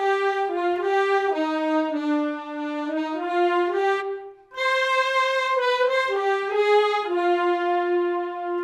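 Smooth legato big band ensemble of clarinets, saxophones, trumpets and trombones from the ProjectSAM Swing! sample library playing a flowing melody, notes gliding into one another with a brief pause midway.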